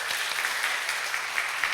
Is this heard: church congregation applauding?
yes